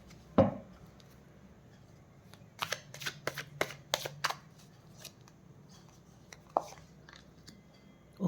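Tarot cards are shuffled in a quiet room: a sharp tap, then a run of crisp riffling flicks in quick succession, followed by a few isolated soft taps and slides, close and faint with no talking.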